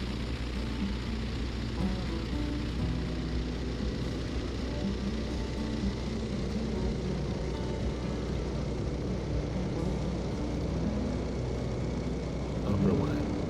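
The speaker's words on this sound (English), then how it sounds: "220 thundering horsepower pushing this beast. 1942 Stearman N2S." Steady low-pitched drone of a 220-horsepower 1942 Stearman N2S biplane's radial engine, loud and continuous throughout with wind rush, no pauses or talk.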